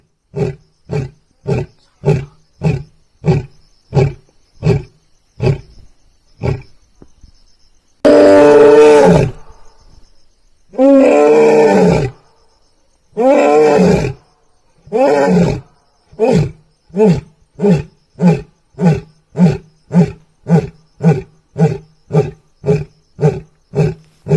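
A lion roars loud and near: a long run of deep, rhythmic grunting pulses framed by several drawn-out, full-throated roars.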